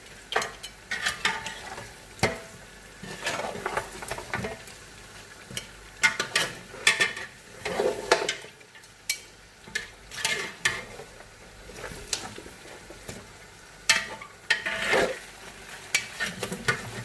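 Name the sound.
frying and stirring mutton trotters (paya) in pot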